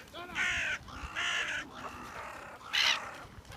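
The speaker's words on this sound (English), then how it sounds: "There's a crow down there." A crow caws three times in separate harsh calls with short pauses between them, heard clearly at a moderate distance over soft outdoor background noise by the coast at Whitecliff in Poole.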